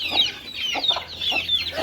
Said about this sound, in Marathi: हे बघा मित्रांनो कशी छान अशी कोंबडी पिल्लांना घेऊन बसते